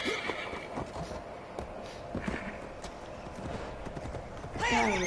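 A horse in a PS5 game clip-clops along at a steady walking rhythm, then gives a loud whinny near the end, with faint background sound throughout.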